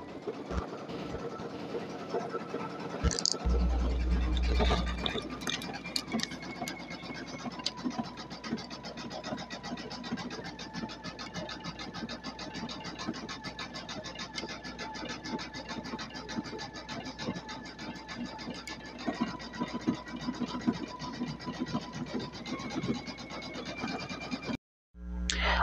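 A Brother VE2200 single-needle embroidery machine stitches an heirloom blanket. It gives a fast, even mechanical chatter that stays steady for about twenty seconds, then briefly cuts out near the end.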